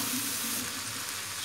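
Water is poured steadily into a cooking pot of mallow and bulgur, a soft, even hiss and trickle that stays constant and fairly quiet for its whole short length.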